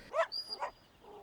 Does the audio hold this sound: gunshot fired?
no